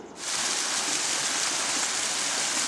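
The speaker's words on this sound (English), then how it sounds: "Finally made it to the waterfall." A waterfall roars steadily, a dense, even rush of falling water that swells in within the first moment and holds constant throughout.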